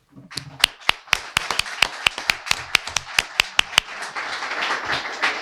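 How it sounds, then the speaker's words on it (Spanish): An audience at a talk on housing rights claps for the speakers, starting with a run of sharp, evenly spaced single claps near the mic that swell into a thicker patter of applause. "Ya les dimos un fuerte aplauso, pero yo creo que merecen otro"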